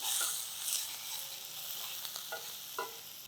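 Sliced onions fry in oil for vegetable bonda, giving a steady close sizzling hiss with a few light stirring taps and scrapes, no voices.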